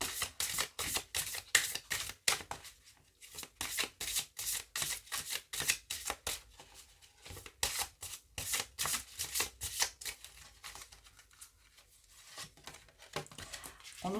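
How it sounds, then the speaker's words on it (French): La Fleur de Vie oracle cards are shuffled by hand in a long, continuous run of fast papery riffles and rustles, close and fairly soft, with brief pauses between bursts. "je vais vous tirer 3 cartes avec l'oracle La Fleur de Vie"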